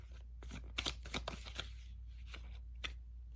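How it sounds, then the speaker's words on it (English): Tarot cards being shuffled in quick bursts of soft riffling and slapping, close by, with short pauses between and a steady low hum underneath. "it's okay to shuffle. Keep shuffling."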